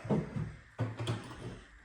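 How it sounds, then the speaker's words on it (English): A bathroom door in a farmhouse under renovation swings shut with a single solid thud midway, framed by soft rustling and handling noises in a quiet room. "Close that door to keep that heat in there."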